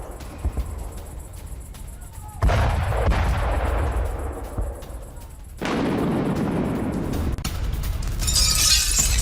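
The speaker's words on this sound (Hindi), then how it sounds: "एयरपोर्ट पर मौजूद टैंकर्स में हुआ है धमाका।" Oil tankers exploding at Belgorod airport after a missile attack, loud rolling blasts and crackling bursts that swell twice into sustained roaring rumble, with a sharp cracking burst near the end.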